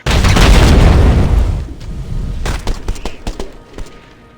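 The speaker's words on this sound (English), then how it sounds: "the explosion effects are kind of nice" Explosion effects in the video game Earthfall Alien Horde: a loud blast that rumbles heavily then decays, followed by scattered sharp gunshot-like cracks and debris impacts.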